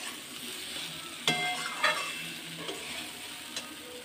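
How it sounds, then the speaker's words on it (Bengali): Spiced food stir-fried in a pan after salting, a steady sizzle with a few sharp spatula scrapes and clinks, close and alone with no talk. "নুন দিয়ে দিয়েছি, একটু কষিয়ে নেব।"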